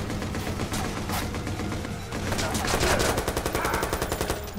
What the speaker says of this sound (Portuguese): É muito tiro